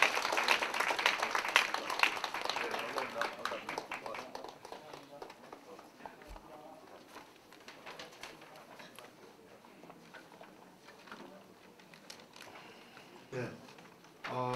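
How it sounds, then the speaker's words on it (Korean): Audience applause at a Jungnang education development council's 15th anniversary training and general meeting, loud and dense at first, then thinning and fading into a low room murmur. "박수 부탁드립니다"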